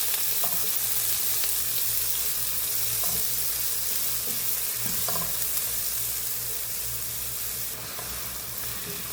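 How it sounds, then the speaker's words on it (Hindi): Cumin seeds, green chili, curry leaves and onions frying in oil in a pan, a steady close sizzle with faint stirring scrapes throughout, no voices. "इसे हल्का सा फ्राई करेंगे।"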